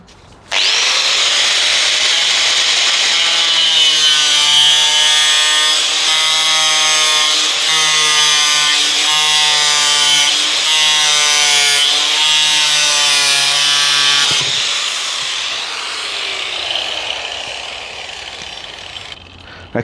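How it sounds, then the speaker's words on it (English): An angle grinder cuts through PVC storm water pipe with a loud, close, sustained high whine for about fourteen seconds. The whine then drops away as the disc spins down. "So I'm just going to use the grinder."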